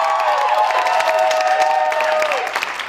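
A campaign rally crowd gives Julian loud, sustained applause and cheering, steady throughout before tapering off at the close.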